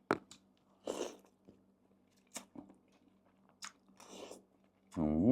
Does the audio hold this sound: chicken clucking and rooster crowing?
no